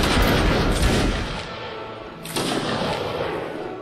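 Musket volleys in a Napoleonic Wars line-battle video game: dense, crackling massed gunfire rolling on from the start, easing off, then a second ragged volley erupting about halfway through, no talk.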